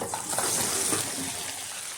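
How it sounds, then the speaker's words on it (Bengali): Jujubes (boroi) poured into a pan holding a little oil, a steady rushing clatter and sizzle that lasts about two seconds, close and fairly loud, with no talk. "এবার আমি এই বড়ইটা এখানে ঢেলে দেব।"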